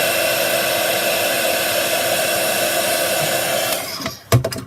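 A craft heat tool blows steadily and loudly to dry ink on a stamp, a constant whooshing hum that cuts off near the end and leaves a few soft clicks and handling knocks.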